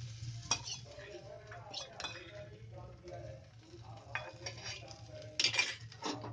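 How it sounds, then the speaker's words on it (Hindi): Garlic-ginger paste with cumin and fennel seeds fries in hot oil in a pan while a spoon stirs it. Soft sizzling runs under repeated metallic scrapes and clinks of the utensil against the pan, quiet and close. "ये अच्छी तरह फ्राई कर लो इसे ताकि चिपके ना बाद में।"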